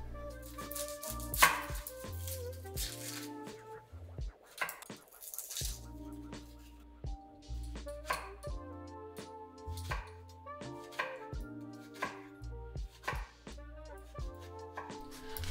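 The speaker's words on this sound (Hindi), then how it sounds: "मुझे प्याज इस तरह से लेंथवाइज काटना इसलिए अच्छा लगता है" Knife chopping onion lengthwise on a board for a moringa leaf stir fry, a steady run of crisp, close taps with brief pauses, no talking.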